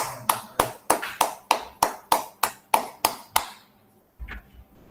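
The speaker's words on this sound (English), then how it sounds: "A round of applause." Eleven sharp, evenly spaced claps ring out close by during a webinar, a single pair of hands clapping at a steady rhythm before stopping, followed by a brief soft thud.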